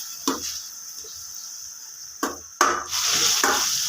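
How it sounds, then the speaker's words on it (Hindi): Tomatoes drop into hot oil in a pan, a soft frying hiss running throughout with a few sharp bursts of sizzle and utensil scrapes, rising louder near the end. "ऑयल हमारा गर्म हो गया, आप टमाटर डालते हैं।"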